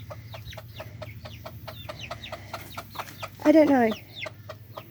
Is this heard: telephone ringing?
no